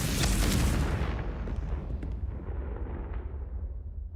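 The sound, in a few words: Confringo spell explosion in a Harry Potter video game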